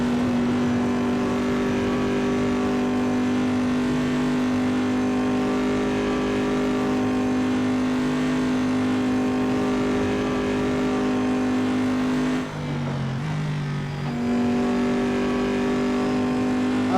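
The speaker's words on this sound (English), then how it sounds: "I love the sound of this car." A racing car engine in a sim racing game played on a Logitech wheel holds a steady high drone, briefly dipping as if shifting gears before resuming its loud, continuous whine.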